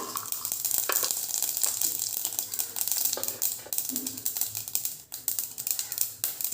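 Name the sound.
mustard seeds spluttering in hot oil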